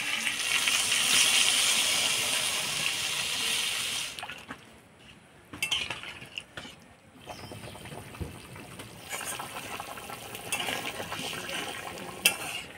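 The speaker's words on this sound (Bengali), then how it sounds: "এবার জল দিয়ে দেবো।" Water is poured into a hot pan of spiced potatoes and aubergine with a loud hissing rush that briefly quiets, then returns as steady bubbling and sizzling, close by.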